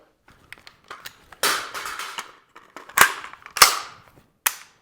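Sharp pistol trigger clicks from dry-fire practice, a handful of crisp snaps spaced unevenly with a few quieter mechanical ticks between, close and loud with no talking.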